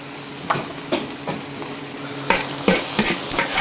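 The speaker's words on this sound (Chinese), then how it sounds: "这个青菜还是很嫩的，随便炒一下就可以出锅了。" Tender green leafy vegetables sizzling in a hot wok, with a steady fry hiss broken by several soft scraping stir strokes of a spatula, close and moderately quiet.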